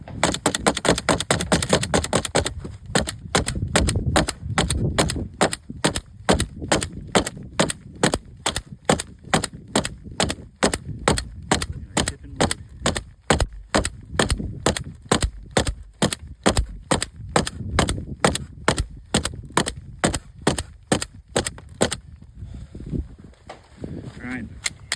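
Rapid gunfire rings out at a 40-yard range as a shooter tests an iron sight, a long run of sharp, evenly spaced shots near and loud, with a few voices heard between them.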